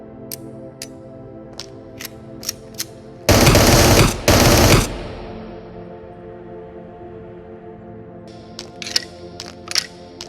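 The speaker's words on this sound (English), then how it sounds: "From loading a mag to shooting the gun, it all feels so good." Gunfire in the VR shooter Into the Radius: a few sharp isolated shots and mechanical clicks, then two loud full-auto bursts of about a second each, followed by more scattered clicks and shots near the end.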